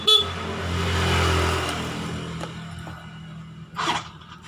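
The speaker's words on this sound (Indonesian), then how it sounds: "Ya, ini klakson hidup." A motorbike horn sounds once in a short honk during a turn-signal repair, up close and fairly loud against a low steady engine or electrical hum.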